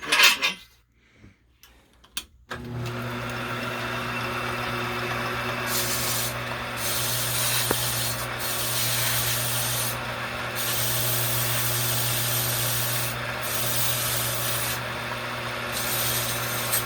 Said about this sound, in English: It's a metal lathe that I have modified to just clean parts.